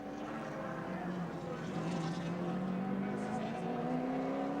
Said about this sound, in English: Dick Johnson in the green Ford Falcon comes through in 2nd position